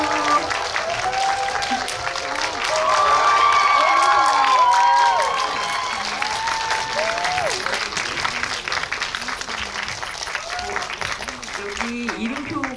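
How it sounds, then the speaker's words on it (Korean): Applause and some cheering from an audience at a Korean film's talk event, with lively clapping that swells mid-clip and then thins, while a voice speaks over the fading claps. "박수."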